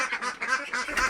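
Ducks on an integrated family farm quack in a quick, overlapping flurry as they come out in the morning, close and fairly loud.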